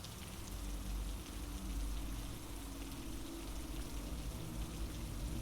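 Steady rain falling at night, a dense continuous hiss with a low rumble underneath, even and unbroken throughout with no voices.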